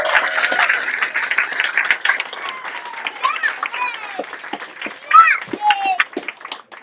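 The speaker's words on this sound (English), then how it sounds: "Let's give all these kids one more round of applause." A church congregation applauds a group of kids, bursts of clapping mixed with children's high voices calling out nearby, loud at first and then thinning into scattered claps and chatter.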